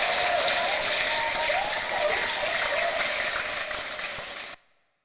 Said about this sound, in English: the round of applause from the audience is especially long